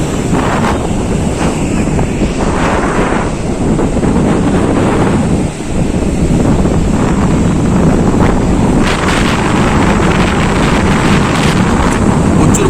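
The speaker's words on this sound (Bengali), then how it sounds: "বাতাস হচ্ছে আজকে যেমন মনে হচ্ছে জামা প্যান্ট খুলে চলে যাবে" Strong gusty wind buffets the microphone at Digha beach in cloudy weather, with rough surf roaring steadily beneath it, loud and continuous for the whole stretch with only a brief dip midway.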